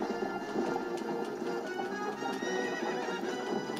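Hooves clip-clop in a steady galloping rhythm while a horse neighs in The Legend of Zelda: Twilight Princess, with game-like ambience and no talking.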